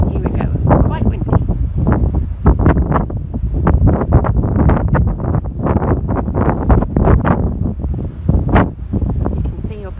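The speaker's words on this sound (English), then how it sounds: "I'm hiding under the bridge because it's just so windy and raining." Strong wind buffets the microphone with rain on a ship's deck near the bridge, loud gusty roaring and rushing that never lets up.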